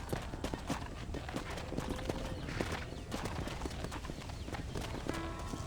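Horse hooves clip-clopping in Red Dead Redemption, a ranch scene with a herd: steady, fairly close hoofbeats running throughout, blended with game background sound.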